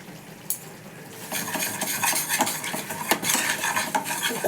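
A spoon stirring spiced chhena kofta masala with ginger paste in a metal pan, scraping and clinking in quick irregular strokes against a faint sizzle, close and fairly loud.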